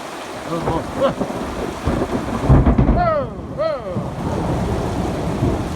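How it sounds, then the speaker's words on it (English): Heavy morning rain falls over a pasture bridge and creek, giving a steady, loud broadband hiss throughout, with a low rumble swelling midway and a brief human exclamation. "Yeah, it's a heavier rain now."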